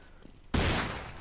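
Sudden burst of gunfire in a Counter-Strike match on the de_tuscan map at a pro tournament, a loud dense volley of shots erupting after a quiet moment and ringing on to the end.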